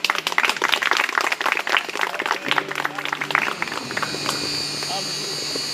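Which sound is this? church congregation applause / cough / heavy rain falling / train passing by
church congregation applause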